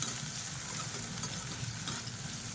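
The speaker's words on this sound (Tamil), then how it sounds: "சுண்டைக்காய் எண்ணெயில் நல்லா வதக்கிட்டோம்னா கசப்பு தெரியாது" Turkey berries sautéing in oil in a pan make a steady, close sizzle and crackle that runs without a break and with no voices.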